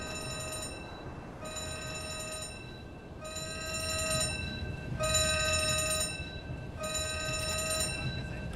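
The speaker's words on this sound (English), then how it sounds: "do you hear an alarm, Jeff?" A video game alarm beeps in five evenly spaced, ringing bursts over a low background rumble, fairly quiet and steady.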